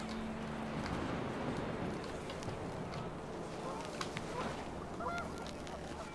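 Panicked geese honk in a scene from the video game What Remains of Edith Finch, their calls scattered over a steady bed of wind-like noise throughout.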